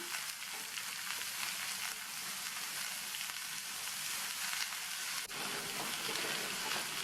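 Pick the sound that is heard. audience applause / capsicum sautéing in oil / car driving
capsicum sautéing in oil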